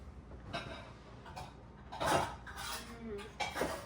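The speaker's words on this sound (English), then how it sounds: "we are gonna scoop it into two large muffin tins, like this, that have been greased" A few soft clinks and scrapes of a scoop against greased large metal muffin tins as cake batter is portioned in, with irregular gentle taps spaced across a few seconds at close range.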